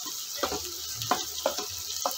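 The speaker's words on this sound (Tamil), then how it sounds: "இது வந்து இந்த ஆயிலே நல்லா டீப் ஃப்ரை ஆகட்டும்." Mushrooms deep frying in oil for a pepper masala, a soft continuous sizzle with a few sharper crackles and spatula knocks at close range.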